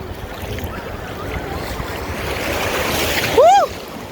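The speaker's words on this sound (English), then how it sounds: "These waves try to knock me down." Big ocean waves surging and washing onto Far Rockaway Beach, a continuous loud roar of surf and wind that swells near the end, with a brief voice over it.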